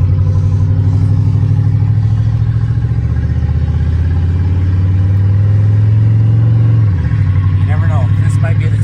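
A 1964 Oldsmobile Super 88 engine running while driving, a loud, steady low rumble with rhythmic pulsing and mechanical clatter, the pitch dipping briefly near the end.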